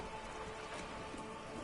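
Steady, even rain ambience from the video game Disco Elysium hisses continuously and softly throughout, with no distinct drops or other sounds standing out.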